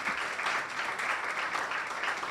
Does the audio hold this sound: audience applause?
yes